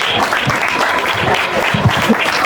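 Steady applause fills a school library commissioning ceremony, with dense clapping from the gathered audience holding a fairly even, loud level throughout.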